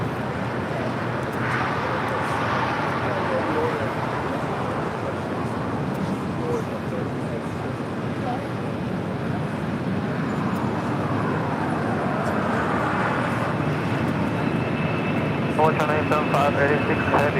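Jet airliners, including a 767-300ER, taxi at LAX airport, giving a steady, loud broadband engine roar that holds for the whole stretch, with voices talking underneath.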